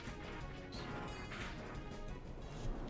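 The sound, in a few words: Pokemon move Sacred Sword hitting, from video game Pokemon Clover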